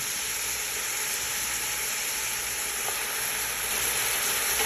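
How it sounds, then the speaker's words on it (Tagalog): Meat with tomato sizzles loudly and continuously in a hot pan, a dense close hiss with faint stirring, and no voices. "Haluin ko siya hanggang kulay white yung meat."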